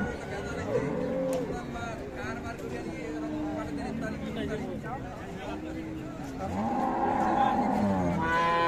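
A Friesian cow with her calf lows at a cattle market in Ambari, Dinajpur, with a drawn-out moo rising near the end over continuous voices and crowd talk.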